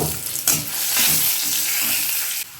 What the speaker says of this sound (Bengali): দিয়ে দেব গোটা জিরা আর দিয়ে দেব কুচানো পেঁয়াজ রসুন